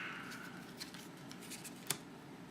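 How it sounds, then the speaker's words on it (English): Three Galaxy Zento game cards are flipped over on a tabletop one after another, giving a few soft, quiet snaps and light papery clicks close by against a hushed room. "So we're going to go ahead and flip those 3 cards."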